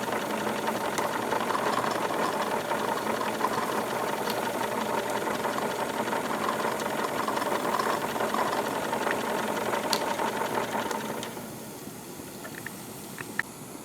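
A Wilesco D22 model steam engine, double acting, runs with a steady rapid mechanical chuffing and rattling close by, then quietens noticeably toward the end, with no voices.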